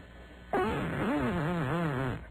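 A long, loud, wavering fart recorded up close on a radio show, with a buzzy fluttering pitch that rises and dips over about two seconds.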